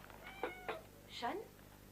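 A cat gives a few short meows in a quiet indoor room, the calls fairly close and clear, with faint voices in the background.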